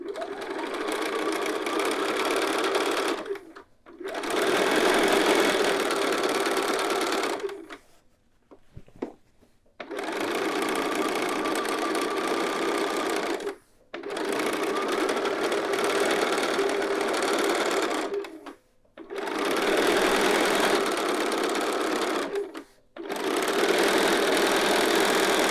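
A sewing machine fitted with a 1/4 inch foot stitches a skirt in long, steady whirring runs, stopping briefly several times between seams, close and loud with no talking.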